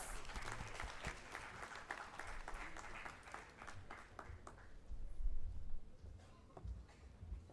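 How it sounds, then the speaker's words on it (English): Audience applause welcoming a speaker at a live hackathon event, a faint, steady wash of clapping that thins out partway through, with low background rumble. "Let's welcome him with a huge round of applause"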